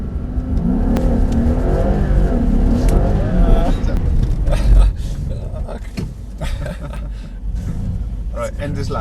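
Mercedes-AMG SL63 engine pulling hard on a race track, a loud steady roar building over several seconds, with a person talking over it throughout.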